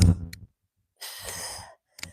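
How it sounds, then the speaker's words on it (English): Breathing during an early-morning workout, with an audible inhale through the mouth standing alone in an otherwise quiet room, bracketed by brief low sounds at the start and a short breathy noise at the end. "Listen to your inhale."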